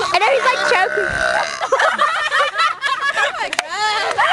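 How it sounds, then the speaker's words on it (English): A person burps loudly and at length, a rasping, gurgling eructation that swells and wavers, with laughing voices and talk breaking in around and over it. "She's about to do another burp."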